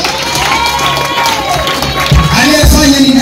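A church congregation claps and cheers loudly nearby, with high ululating cries and raised voices layered over the applause.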